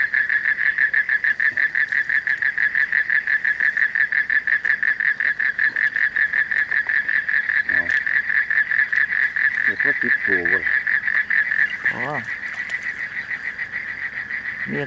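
Many frogs croak and trill together in a dense, continuous chorus that pulses rapidly and stays loud and close, with a few brief vocal sounds breaking in near the end.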